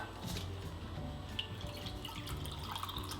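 Water, about 50 ml, pours into a pork neck marinade as a steady, close trickle with light splashing and dripping throughout.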